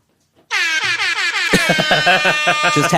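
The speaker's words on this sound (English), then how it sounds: "this is the DJ air horn sound effect" After a moment of silence, a DJ air horn sound effect blasts continuously, loud and blaring, then breaks into rapid repeated stuttering honks, close and very loud.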